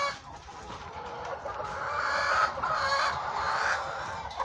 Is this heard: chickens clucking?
yes